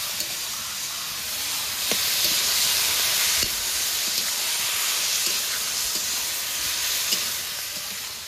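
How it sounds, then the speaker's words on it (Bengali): Food is stirred and sautéed in a pan after salt and turmeric go in, giving a continuous sizzling hiss broken by occasional soft scrapes and taps of the spoon. "এবার হলুদ দিয়ে দেব। হলুদ দিয়েছি, এরপরে নেড়ে চেড়ে একটু কষিয়ে নেব।"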